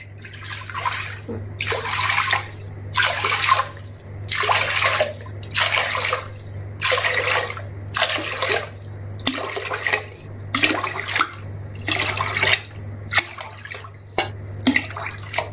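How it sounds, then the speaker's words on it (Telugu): Water is poured glass after glass into a thick pot to boil rice and sago flour dough, giving about a dozen separate splashing gushes with short pauses between them over a low steady hum. "పిండి ఉడకబెట్టడానికి నీళ్లు పోస్తున్నానండి."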